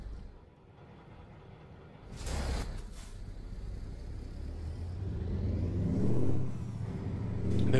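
An engine runs steadily in the Grand Utopia driving game on Akokan Island, a low continuous drone that swells as it revs up near the end, with a brief whooshing burst partway through and no talking.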